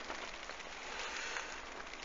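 Rain falls on a lake at Hackett Lakes, a soft continuous patter and hiss close by, steady and even throughout with no voices.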